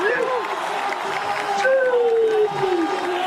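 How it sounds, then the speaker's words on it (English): A crowd at the Extreme Barcelona World Skate Scootering Pro Tour street final roars and cheers in a sustained wash of noise, with a commentator's voice rising over it and a few shrill whistles. "Listen to the crowd, they love that."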